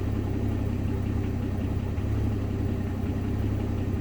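A car engine idles steadily right after an oil change, a continuous low rumble at an even level with no talk and no change in pitch.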